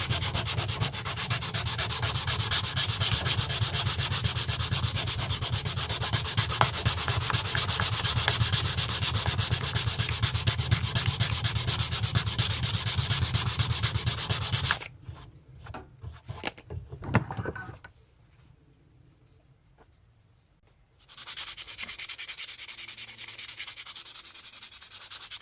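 Sanding a hidden-tang knife handle with 100-grit abrasive: loud, continuous rhythmic rasping strokes up close, then brief scattered scrapes and near silence before the steady sanding resumes.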